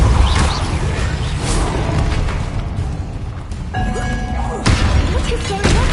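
A Depulso force spell fires in Hogwarts Legacy amid a battle, producing booming, crashing impacts and thuds in quick succession over a busy, layered game soundscape.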